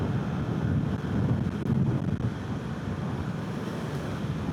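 Wind rushes past while a Honda Elite 110 scooter is ridden at full throttle near its top speed, a dense, steady low roar of buffeting air that fills the whole stretch without pause.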